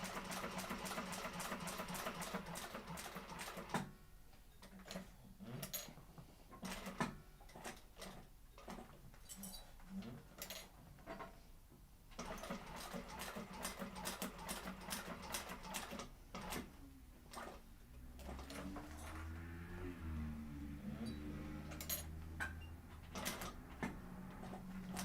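A sewing machine top stitches a quilted Wayfarer sling bag in quick mechanical runs, quiet and close, with short pauses between bursts and a low hum toward the end.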